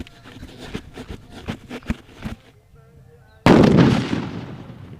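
After a run of crackling pops and small bangs, a colour paper bomb firecracker goes off in a single loud, close blast that rolls into a long fading rumble in an open village setting.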